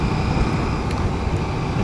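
A Husqvarna Svartpilen 801 motorcycle in fourth gear climbing an incline, its engine a steady, low rumble under heavy wind rush from riding, loud and continuous throughout.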